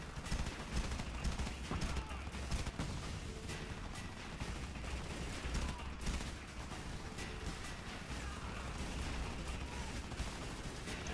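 Heavy gunfire from armored troops in the shooter Frontlines: Fuel of War, a dense, continuous barrage of shots and bursts lasting throughout, loud and unbroken with no quiet gaps.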